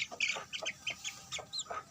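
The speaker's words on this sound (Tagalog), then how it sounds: "Mga inahin na mga naglilimlim." Brooding hens sitting on eggs clucking and murmuring in short repeated bursts, close by and fairly soft, with no one speaking.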